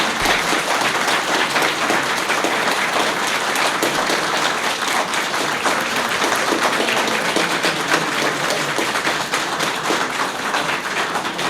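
Steady, loud applause from a stadium-sized crowd fills the whole stretch, dense and continuous with no break and no speech over it.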